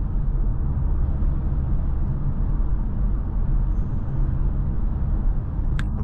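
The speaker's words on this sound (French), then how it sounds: "On peut même entendre les pneus sur la route." Steady low rumble of tyres rolling on the road inside an Audi RS3 Sportback cruising quietly on electric power, a constant broadband hum with no engine note and no talking.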